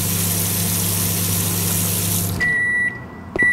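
A microwave oven in the game Denizen hums steadily, then stops and gives a series of high, short completion beeps, loud and close with no talk.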